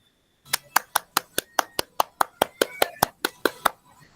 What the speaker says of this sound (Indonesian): Kasih tepuk 2 kali untuk Kak Fatoni